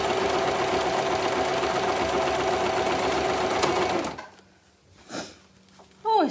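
A sewing machine runs steadily and loudly for about four seconds while stitching a fabric shopping basket, then stops, leaving quieter rustles and a short whirring burst.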